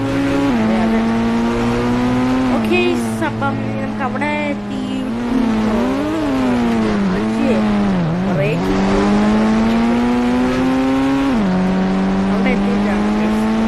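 Cars drive through the city in the video game Indian Theft Auto, with engines droning and revving up and down in sweeping pitch, plus occasional tyre squeals, under steady talk from a man.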